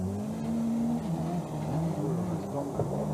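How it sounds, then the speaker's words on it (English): A 1998 Vauxhall Astra Mk4 rally car engine drones and labors under load, bogging down, its pitch sagging and wavering rather than climbing, steady and fairly loud throughout. "You can hear that engine bogging down."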